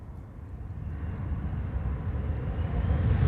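Airplane landing at Amsterdam Schiphol, its engines in reverse thrust as a steady broadband roar that grows louder toward the end, heard at a distance with no talking.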